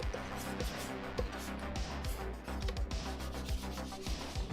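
Sanding the edges of leather armor pieces, a steady close rasping rub in quick repeated strokes over a low background hum.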